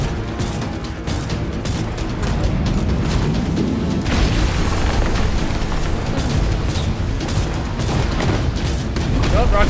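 A rocket punch attack lands amid a Gunfire Reborn fight, a heavy impact boom rising out of a constant dense clatter of shots, blasts and mechanical effects that fills the whole stretch at high volume.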